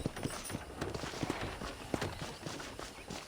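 Horse hooves clip-clop in a quick, uneven walking rhythm in the video game Red Dead Redemption, fairly faint, with no voices over them.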